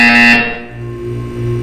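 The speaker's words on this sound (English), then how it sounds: "You will hear a buzzer." A loud electronic buzzer from the Portal 2 video game, a steady harmonic tone that drops off partway through and leaves a lower hum ringing on, with no talk over it.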